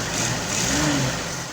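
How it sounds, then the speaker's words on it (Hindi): A car engine cranked by its self-starter after a roadside repair rises into a brief rev, a loud, close mechanical roar with a slight dip before it trails off. "मारें जी सलफ गाड़ी को।"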